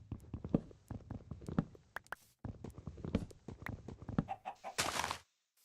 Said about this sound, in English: Those chickens freak me out sometimes, I swear. They sound like other things.